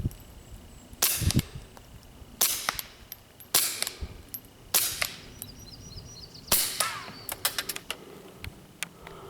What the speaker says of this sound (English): nobody but me knows that I'm shooting right now